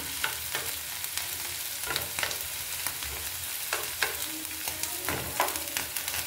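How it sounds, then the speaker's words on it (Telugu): Steady crackling sizzle of garlic frying in hot oil for a stir-fried ivy gourd dish, broken by occasional sharp clacks of a spoon stirring the pan. "గార్లిక్ మంచి స్మెల్ వస్తుందండి వేగుతుంది కాబట్టి."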